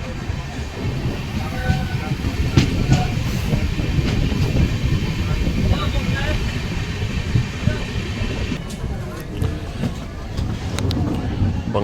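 A Kamakhya Express passenger train runs through Assam on the Varanasi to Kamakhya route between Kokrajhar and New Bongaigaon. A steady, close rumble of wheels and carriages fills the whole stretch, with rhythmic clacks and faint voices in the background.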